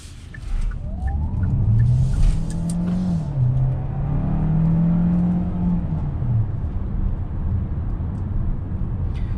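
A 2021 Hyundai Santa Fe Hybrid pulls away from a dead stop with its traction control off. A loud, close motor whine rises steadily in pitch over a broad rumbling engine and road noise.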